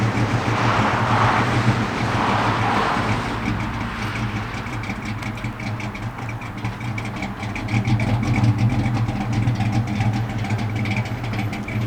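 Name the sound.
car driving laps on a quarter mile track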